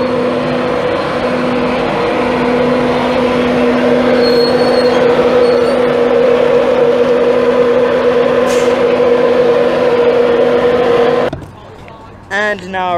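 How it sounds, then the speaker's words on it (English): Class 91 electric train on a Virgin Trains East Coast service from London King's Cross to Edinburgh passes through Peterborough station, a steady loud rumble with a sustained hum lasting several seconds, ending abruptly as it clears. "the 1017 Virgin Trains East Coast service from London King's Cross to Edinburgh"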